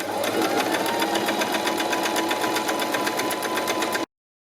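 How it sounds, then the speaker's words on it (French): A sewing machine runs a zigzag stitch on fabric for a child's harem trousers, its needle thumping in a fast, steady rhythm up close until it stops abruptly. "mon point zigzag pique une fois vraiment à l'intérieur du tissu"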